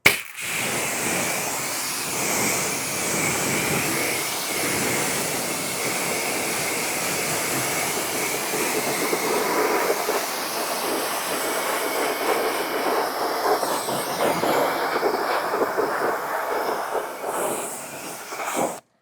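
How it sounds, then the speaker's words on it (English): Water spray rinsing a car wheel fitted with carbon ceramic brake rotors, a steady broadband hiss that runs close and fairly loud through the whole stretch with small shifts in intensity and no voices. "Now we can go ahead and just rinse this off."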